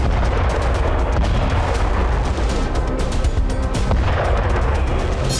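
Artillery fire from a Russian attack on Ukraine, a loud, dense barrage of overlapping booms and cracks rolling on continuously, with no gaps.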